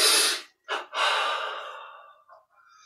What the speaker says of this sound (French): On ouvre et on inspire.